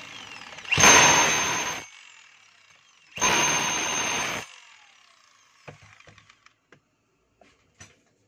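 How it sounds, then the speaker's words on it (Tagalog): A DeWalt D25032 rotary hammer runs in hammer mode in two loud, close bursts of about a second each, followed by scattered faint clicks and taps as it is handled. "So malakas yung hammer niya mga kabay"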